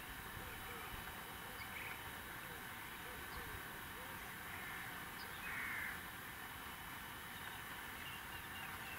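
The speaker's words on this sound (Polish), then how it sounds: "No, słychać te ptaki cały czas" Crows cawing now and then at a distance above steady broadband outdoor noise beside a deep oxbow lake at the edge of a forest, with calls faint and intermittent rather than close.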